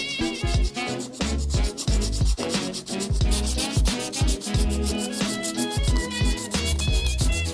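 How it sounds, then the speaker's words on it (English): Sandpaper rubbed back and forth over a small wooden fingerboard, giving rapid rhythmic scraping strokes that keep up steadily throughout and sound close and fairly loud, with no talking. "take some sandpaper and sand the entire board"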